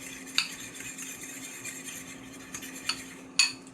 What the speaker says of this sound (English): And I grab the eggs and I start stirring again.